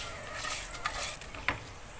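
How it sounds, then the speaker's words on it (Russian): Vermicelli sizzles and fries in a pan for Turkish pilaf, with a steady crackle under close, scraping stirs and a few sharp clicks of the utensil against the pan. "И жарить до золотистого цвета. И постоянно помешивать, чтобы оно у вас не сгорело."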